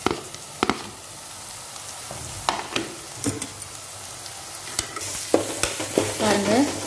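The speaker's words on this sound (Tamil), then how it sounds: "இப்போ இஞ்சி பூண்டு போடுறோம்." Ginger garlic paste frying in a pan for hotel-style kadai chicken, a low steady sizzle broken by repeated sharp clinks and scrapes of a stirring utensil, growing busier toward the end, with no one speaking.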